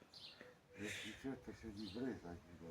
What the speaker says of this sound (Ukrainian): Чую, пташок поприлітало.